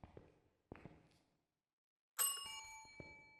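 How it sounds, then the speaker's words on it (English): A bell in the Phasmophobia ghost-hunting game rings once with a bright, clear strike that rings out and decays slowly, after a few soft taps and footstep-like knocks in an otherwise quiet space. "Ring the bell for good luck."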